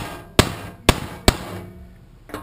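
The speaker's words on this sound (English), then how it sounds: "we're going to peen this thing over" Hammer peening over a radiator mount, three sharp metallic blows spaced about half a second apart, then a fainter fourth strike, each ringing briefly close up with no talking.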